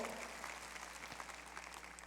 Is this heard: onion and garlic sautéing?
no